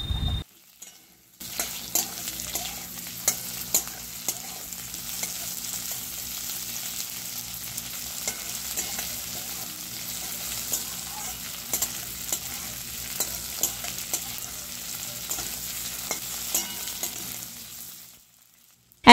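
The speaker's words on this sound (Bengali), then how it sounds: "হালকা একটু ভাজা হয়ে গেলেই এর মধ্যে আলু টুকরোগুলো দিয়ে দেওয়া হচ্ছে" Onion sizzles lightly in a hot pan as potato pieces are added, giving a steady close frying hiss with scattered scraping stirs and small pops, fading out near the end; no one speaks.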